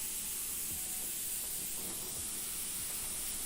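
An airbrush spraying orange paint, giving a continuous close, even hiss of air and paint with no talk over it.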